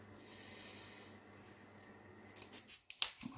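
Scissors snip paper to a matched length during a dog-themed Advent calendar craft, a few crisp close cuts arriving near the end after a quiet stretch.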